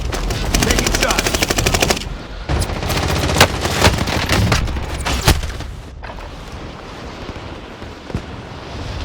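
Rapid bursts of automatic machine gun fire in the Call of Duty Warzone video game, loud and dense for the first several seconds with sharp shot peaks, then thinning to scattered reports over a rumbling battlefield din.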